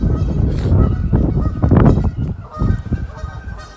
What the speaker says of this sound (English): Also the honkers are behind us. They're honking away.